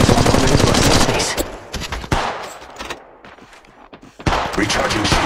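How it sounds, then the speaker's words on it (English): Rapid automatic weapon fire in Apex Legends rattles loud and close, a dense stream of shots that breaks off briefly midway, then resumes as another burst. "Firing on subjects."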